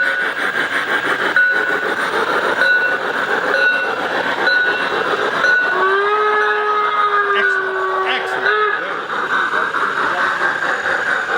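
A Micro-Trains model locomotive's sound effects play at a railroad hobby train show, with a steady running rumble, a sustained whistle or horn sounding midway and rail squeal tones, over faint crowd chatter.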